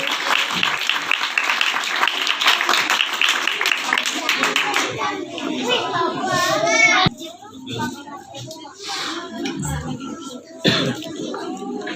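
An audience at a church Christmas program bursts into loud, dense applause to welcome a pastor, clapping steadily for several seconds before it thins out amid children's voices and chatter.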